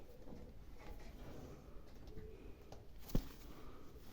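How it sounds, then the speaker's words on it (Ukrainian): A pigeon coos softly nearby, low throaty calls over steady background noise, with a single sharp knock near the end. "Ось такий голубок."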